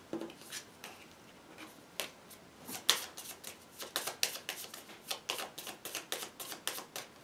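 A deck of hit location cards for the Kingdom Death Monster board game is shuffled by hand, making a run of quick, crisp riffles and taps close by.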